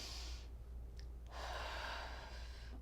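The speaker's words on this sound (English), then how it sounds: "Let's start with just one quick breath" One quick breath, taken calmly in a quiet room, is drawn in and released as a soft, close, airy rush lasting about a second and a half, with no talking.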